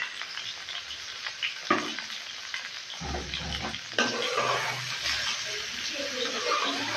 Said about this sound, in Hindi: अच्छी तरह इसको फ्राई करेंगे।